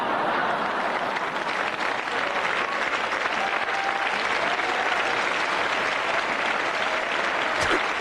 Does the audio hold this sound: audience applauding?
yes